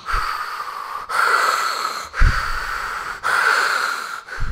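A voice imitates the laboured breathing of a dying person, giving four slow, heavy, wheezing breaths in a regular rhythm with short gaps between them, close and loud.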